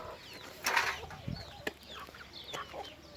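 Several farmyard chickens, among them a Lohmann Sandy hen, cluck and squawk in short bursts. Wings flap once nearby, and the calls come at close to middle distance.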